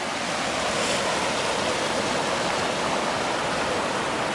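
River on the Pacific Crest Trail near Mather Pass, in snowy high mountains, rushing loudly in a steady, dense roar of flowing water that stays constant and close throughout, with no voices.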